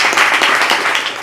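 Brief burst of audience applause at a poetry open mic, honoring a man just given a lifetime arts achievement award; dense, steady clapping close and loud for about a second.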